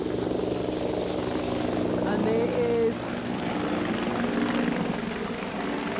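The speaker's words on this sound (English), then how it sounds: "Oh, that's the president's helicopter." A presidential helicopter passes overhead in Washington, DC, its steady rotor and engine roar continuous and fairly loud beneath people talking near the wharf.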